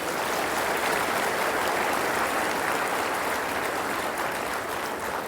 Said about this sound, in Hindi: एक बार ताली बजाओ सभी बीच में।